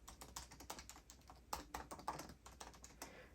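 Fingers tap quickly on the keyboard of a 16-inch M1 Pro MacBook Pro, a soft, uneven patter of clicky keystrokes heard up close and fairly quiet.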